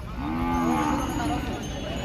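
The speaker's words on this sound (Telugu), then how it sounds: "మీరు చూస్తున్నది Devarakadra bulls market heavy big సైజ్లో ఉన్న సేద్యపు ఎత్తు ఉంది" A large, heavy plough bull at the Devarakadra cattle market gives one loud, close moo lasting about two seconds, its tone rising and then bending down, over open-air crowd noise.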